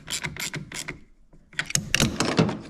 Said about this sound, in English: we're going to go ahead and tighten down our battery post here